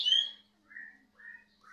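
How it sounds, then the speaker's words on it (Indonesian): A caged cucak cungkok songbird calls close by, giving a sharp high squawk and then three short whistled notes spaced with brief silences in a quiet room. "Ini cuca cungkoknya buat masteran burung-burung"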